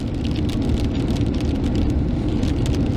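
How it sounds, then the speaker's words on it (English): Hail mixed with snow pelts a car during a storm on Greenhorn Mountain, a dense, steady patter of hard ice bits drumming on the body and windows, close and loud throughout. "So we got hail mixed with snow."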